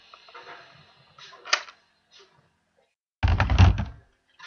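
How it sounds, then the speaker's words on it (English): A magazine is released from an M24 airsoft BB gun, with a small click from the side button and then a louder plastic clunk as the magazine slides out, heard close and alone. "To get the mag, a little button on the side. I'll push that. Mag comes out."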